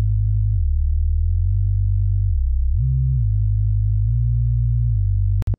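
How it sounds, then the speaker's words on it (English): A deep, pure sine bass from Ableton's Operator synth plays a slow sequence of sustained low notes, smooth and humming, ending with a sudden click. "it's actually just Ableton's operator playing a sine wave."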